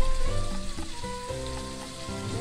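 Shrimp and surimi fry in olive oil in a pan, giving a steady, close hiss and sizzle with light crackling and no pauses.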